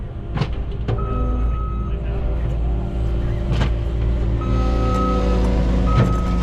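Skid steer shaping a whoop on a motocross track, a steady low engine drone with hydraulic whine and a few clanks rising above it, fairly close and continuous with no talk.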